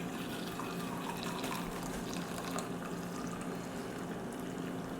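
A steady stream of French press coffee pours continuously into a mug, a soft broadband trickle that holds even for several seconds.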